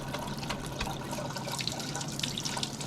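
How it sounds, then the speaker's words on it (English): Cold tap water splashes and trickles over a boiled egg in a kitchen sink, a continuous spattering stream with small drips, steady and close. "Run that under the cold water, then you can grab it with your hand."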